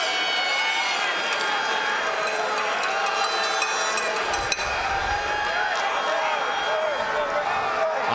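A large football crowd roars continuously at Husky Stadium during a CIS Uteck Bowl game between Laval Rouge et Or and Saint Mary's Huskies, a dense, steady wall of cheering and noise beneath a commentator's voice.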